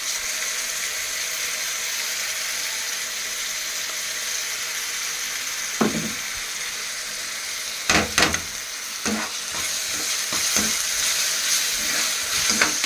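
Onions, ginger-garlic paste and cumin fry in a pan with a steady, loud sizzle throughout, joined near the end by a few scraping stirs and clinks of a utensil against the pan.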